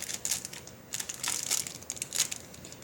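A plastic bag holding a moonstone crinkles and crumples in several short bursts, close and crisp, with brief quiet gaps between handlings.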